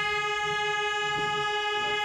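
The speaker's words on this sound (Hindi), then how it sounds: "अब यहाँ पे लॉन्ग हॉर्न पुश करो एक बार" A car horn held down in one long press while edging through a narrow lane, sounding as a loud, steady, unbroken tone for the whole stretch with faint background rumble.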